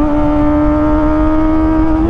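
A Kawasaki ZX25R motorcycle fitted with an Arrow Pro Race exhaust holds a loud, steady high-pitched engine drone, close by and sustained for about two seconds with no talking.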